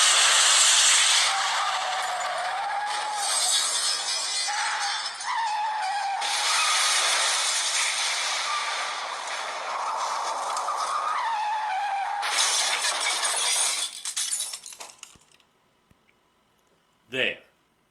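A loud car skid, with a long screeching, hissing slide and tire squeal running for many seconds, fading out before one short, sharp impact near the end.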